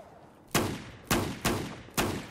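Four sharp, loud gunshots ring out in Battlefield 1, spaced unevenly with short decaying tails over a quiet game background.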